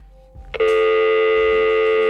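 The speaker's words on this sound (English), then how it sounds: "The phone is so vocal." During a live call-in show on White Mountains Today, a telephone sounds one loud, sustained electronic ringing tone that starts abruptly after a faint lead-in and holds steady for over a second.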